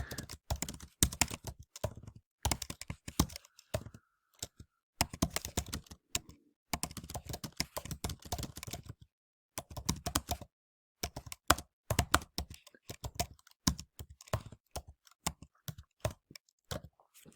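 Rapid typing on a computer keyboard, close and clear, with bursts of key clicks broken by short pauses and nobody speaking.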